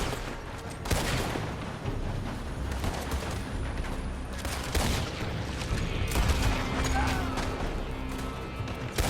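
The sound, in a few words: gunfire from a building in the video game Red Dead Redemption 2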